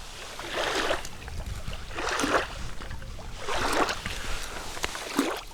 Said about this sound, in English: Must have had a little boat go by or something.